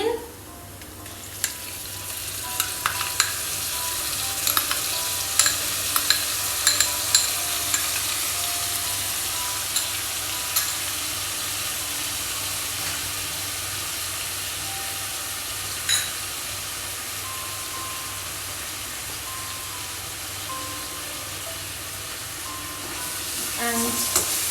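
Chopped onion sizzles steadily in hot oil in a pan while being stirred for palak paneer, a continuous bright frying hiss with small scraping clicks from the spoon, close and fairly loud with no talking.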